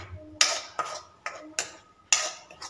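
A steel plate set as a lid over a pan of simmering gravy for Afghani paneer, giving five sharp metallic clinks and taps in quick irregular succession, close and fairly loud.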